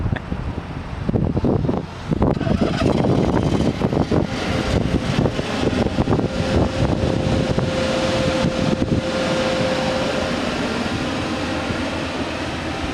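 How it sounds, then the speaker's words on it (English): Generator on a 2008 Ford E350 Altec bucket truck runs as a steady, loud broadband drone mixed with wind buffeting, with a faint whine rising partway through; no talking. "You have to put on the generator and work it off of there"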